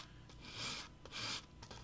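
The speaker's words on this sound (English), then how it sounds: "So when I sand this direction, I'll stop here with strokes in this direction" Wood of a solid-body electric guitar kit being hand-sanded along the grain, two long rasping strokes with a brief pause between them, close and fairly quiet.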